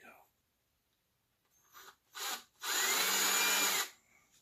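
A power drill spins up in a couple of short bursts, then runs steadily for about a second before stopping; close and loud after near silence.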